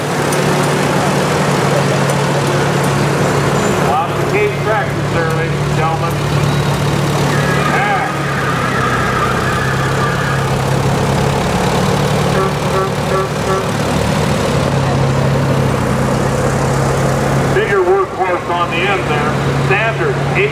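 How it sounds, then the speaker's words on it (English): Case tractors rumbling past in a heritage day parade in Upsala, low steady engine drone and idling throughout, with people talking over it. "Lots of Case tractors, ladies and gentlemen."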